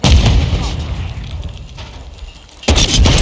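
Gunfire in the Modern Warfare 2 video game: loud, punchy shots open the clip, then a quieter stretch before a sharp burst near the end, under game noise with no clear talk.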